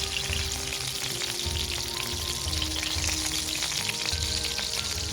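Chapli kababs fry in a pan, a continuous close sizzle and crackle with small popping spatters and no talking.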